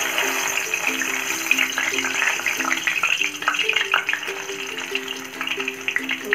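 Moong dal frying in hot oil inside a sieve, a spoonful at a time, with a continuous bubbling sizzle and crackle under soft background music.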